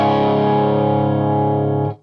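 Electric guitar played straight into a Marshall amplifier with no pedal, a single sustained distorted chord ringing loud and steady for about two seconds before being cut off, with no voices.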